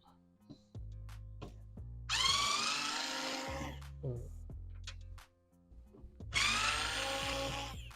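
Two long whirring bursts of a power screwdriver driving out the self-tapping screws on the cab brake light of an Isuzu All New D-Max truck, loud and close, separated by quieter clicks and handling.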